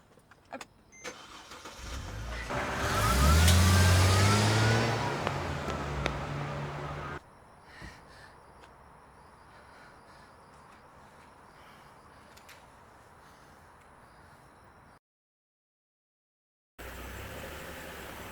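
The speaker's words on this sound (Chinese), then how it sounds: "开车。" A car engine starts and revs up loudly, then settles into a steady mid-pitched drive that fades away into quiet outdoor ambience in a remote countryside spot, with no talking.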